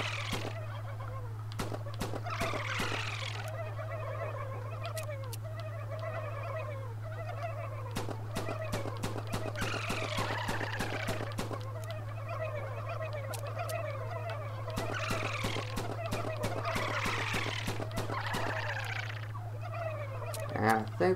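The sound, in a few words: turkeys gobbling in a video game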